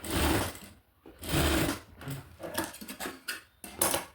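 An overlock sewing machine stitching fabric, running in several short bursts with brief pauses between, close and clear.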